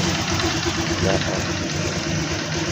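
A Honda Click 125 scooter engine idles with a steady, even mid-pitched hum and a faint rattling knock, close by and continuous throughout.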